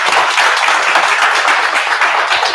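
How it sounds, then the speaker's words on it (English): A meetup audience gives a dense round of applause for a speaker named Jonathan, steady and loud from start to finish. "Round of applause for Jonathan."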